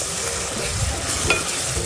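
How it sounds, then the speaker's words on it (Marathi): Hot milk poured into semolina roasted golden in ghee with dry fruits and banana for a Satyanarayan puja prasad, giving a steady close sizzle and bubbling hiss with a brief sharper spatter midway. "आता त्यामध्ये दूध घालूया आपण गरम केलेलं"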